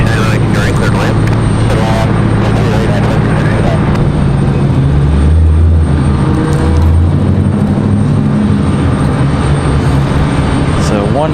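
An Airbus A220 airliner taxis off the runway at Raleigh Durham International Airport, its engines a steady loud whine and rumble, while someone talks over it throughout.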